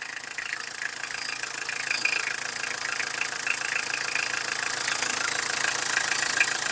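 The diesel engine of a 2009 Tata Indica idles steadily nearby, a constant rattling, knocking drone with no talk.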